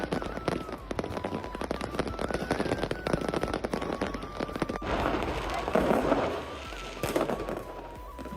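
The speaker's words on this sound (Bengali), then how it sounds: "বারোটার পরও অনেকক্ষণ পর্যন্ত আতশবাজি ফুটেছে, মানুষ ফাটিয়েছে অ্যাকচুয়ালি।" New Year's fireworks in Denmark, a dense, continuous crackle of bangs and pops in the distance, with people's voices mixed into the noise.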